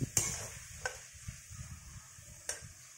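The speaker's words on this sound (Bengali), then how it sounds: "ভালো করে এটা আমি নাড়াচাড়া করে নিচ্ছি" Paneer curry with tomatoes being stirred in a pan, a spatula tapping and scraping the metal at intervals over a soft, steady frying sizzle, close and fairly quiet.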